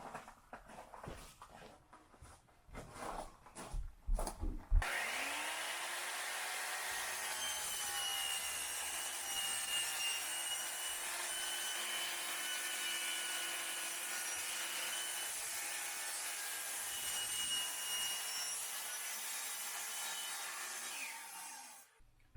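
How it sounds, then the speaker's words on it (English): After some scattered knocks and handling noises, a power saw starts up and cuts through plywood in one sustained, fairly steady whine, winding down abruptly at the end. "So we've cut our plywood back."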